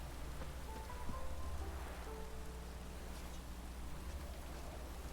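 Heavy rain pours in the video game Witcher 3, a steady hiss of drops striking surfaces at moderate volume with a faint low rumble beneath and no voices.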